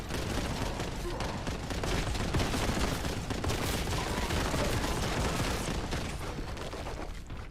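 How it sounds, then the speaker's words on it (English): Video game gunfire aimed at the player, a dense and continuous rattle of shots and bursts that stays steady and fairly loud for several seconds, with no talking over it. "You're shooting at me."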